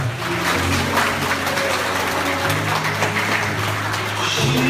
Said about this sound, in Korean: 여러분들 큰 박수 부탁드리겠습니다